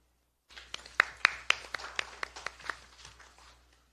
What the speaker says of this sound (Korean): 다시 한번 위원장님과 위원 여러분께 격려의 박수 부탁드립니다.